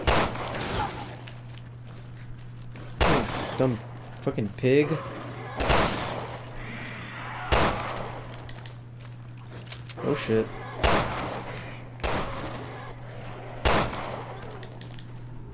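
Video game gunfire in Resident Evil Revelations 2 against zombie pigs, roughly seven loud shots spaced a couple of seconds apart over a steady hum, with a voice speaking between them.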